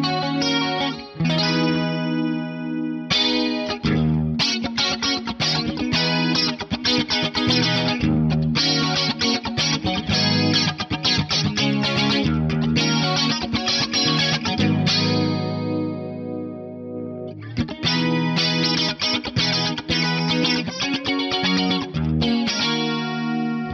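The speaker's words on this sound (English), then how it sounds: "Let's just navigate back to that subtle reverb so you can really hear the chorus." Strummed electric guitar with a shimmering chorus effect and a light wash of reverb, playing steady chords with brief pauses between phrases.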